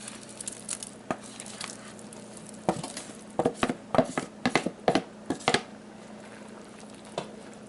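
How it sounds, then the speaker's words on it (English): Crab meat gets dumped into a pot of pink shrimp for a shrimp, crab and corn bisque, giving a series of wet plops and clattering stirs against the pot over a quiet simmering background. "we're going to dump the rest of the crab meat in"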